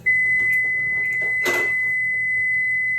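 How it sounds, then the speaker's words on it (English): A kitchen timer on a stove emits a continuous steady high beep for about three seconds, with a brief clatter midway. "Oh, that's my timer."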